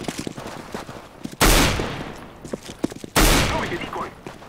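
Two sharp, loud bursts of rifle gunfire in a CS:GO competitive match crack out about two seconds apart, each ringing off with a decaying tail, while a player chatters faintly in between.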